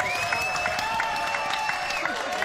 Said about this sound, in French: c'est applaudissements pour Aurélie Filippetti quand même